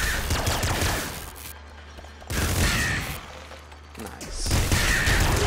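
Rapid Gatling Bazooka rocket fire and blasts from the video game Nuclear Throne, a dense roaring barrage in bursts with brief lulls between volleys, loud and continuous with a voice briefly speaking.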